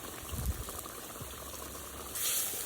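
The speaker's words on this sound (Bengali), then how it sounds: "মশলাটারে খুব ভালোভাবে কষে নিই।" Turmeric, coriander, ginger-cumin paste and garam masala fry in a pan for a Bengali chicken curry, giving a soft, steady sizzle and bubbling with a few low knocks and a brighter hiss near the end.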